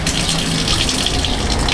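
Water gushes steadily from the faucet of a van's plumbing system, fed through PEX piping, a loud continuous splashing rush heard up close without pause.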